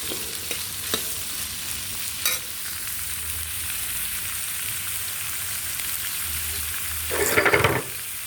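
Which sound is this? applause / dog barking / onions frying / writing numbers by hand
onions frying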